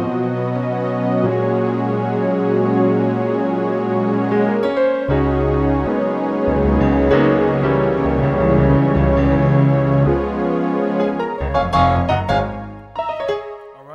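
Nord Stage 3 keyboard playing a layered split patch of gospel-style organ and piano, sustained chords over deep bass notes with swelling runs, close and full, ending on a brief flourish and release, no talking.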